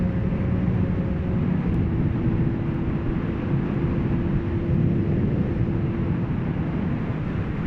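A motorcycle cruises steadily along a road, with a constant low engine drone and wind rush that hold evenly throughout, close to the rider and without any talk.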